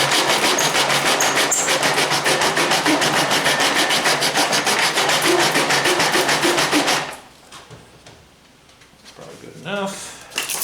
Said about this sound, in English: That stuff tears up the sandpaper pretty fast.